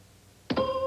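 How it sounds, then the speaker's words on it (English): Game show buzzer on the 1990 Monopoly television game show, a single sharp electronic tone that cuts in abruptly and holds steadily until the end. "Kleptomania, you were in before the buzzer, Patrick."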